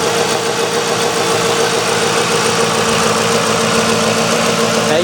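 A 2004 Ford Crown Victoria's engine idles close by, a loud, even mid-pitched hum with a faint steady vibration and no breaks, heard on its own without voices.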